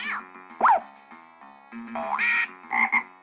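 A frog in a video game gives several cartoonish croaks and boing-like chirps, some rising in pitch, over a quiet looping electronic game tune, loud and close.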